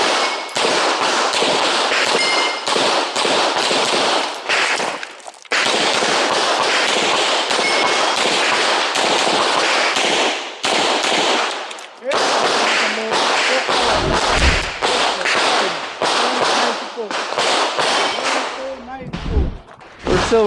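Pistol shots ring out at an IPSC practical shooting stage, loud sharp cracks in rapid bursts with short pauses between strings, close and dominant.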